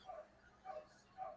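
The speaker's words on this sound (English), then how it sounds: "What am I hearing? Dogs." Dogs bark faintly in the distance, three short yips spaced about half a second apart, heard during a coffee chat.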